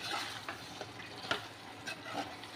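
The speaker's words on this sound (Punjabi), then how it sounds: "ਆਪਾਂ ਨੇ ਗ੍ਰੇਵੀ ਦੇ ਵਿੱਚ ਸਾਰੀ ਸਬਜ਼ੀ ਪਾਤੀ ਆਪਾਂ ਜੀ ਇਹਨੂੰ ਚੰਗੀ ਤਰ੍ਹਾਂ ਮਿਕਸ ਕਰ ਦਾਂਗੇ" Capsicum sabzi being stirred into gravy in a pan, a steady soft scraping and sizzling with occasional spoon clinks, continuous and close, with no voices.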